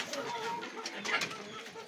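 Pigeons cooing softly and repeatedly, with rustling and faint background noise around them.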